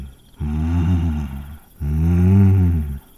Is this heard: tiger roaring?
yes